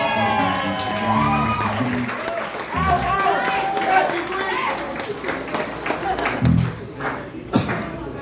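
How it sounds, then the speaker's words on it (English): Bar audience at a Filipino rock gig applauding a drummer, a burst of clapping with whoops and cheers that rises and lingers for several seconds, with people talking over it. "Give it a round of applause, please,"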